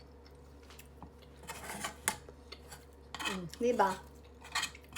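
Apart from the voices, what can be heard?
scraping leftover maja blanca from a pan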